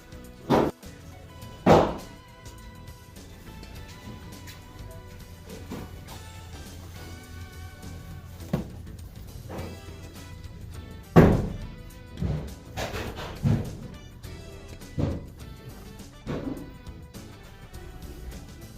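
Sharp, booming AR-15 rifle shots in 5.56 ring out at irregular intervals at a shooting range, some close and loud, others fainter, with quiet background noise between reports.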